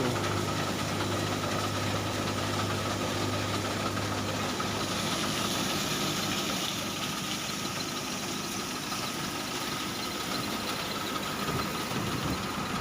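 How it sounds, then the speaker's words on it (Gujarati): A small tractor engine idles steadily throughout, a continuous low rumble with a faint knocking vibration and no voices. "આ નાનું ટ્રેક્ટર છે"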